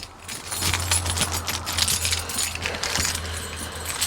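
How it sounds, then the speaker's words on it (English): A big bunch of keys jangles continuously, bright metallic clinking close by as the ring is shuffled to find the right key for a cherry picker, over a low steady hum, with no speech. "Now it came with 50 million keys, so we're going to get the right one."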